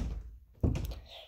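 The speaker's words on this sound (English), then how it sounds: "Let's open the door." A door thunks once as it is opened, a single dull knock of moderate loudness after a brief quiet moment, followed by a faint rattle.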